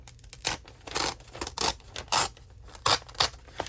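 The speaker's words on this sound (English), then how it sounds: "Let me see if it's going to tear nicer than it's going to cut." A magazine page is torn out by hand in a quick series of short, crisp ripping bursts, close and alone with no voices.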